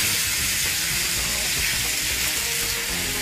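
Chicken strips frying in a pan, a loud steady sizzle and hiss that runs the whole time, close up and alone.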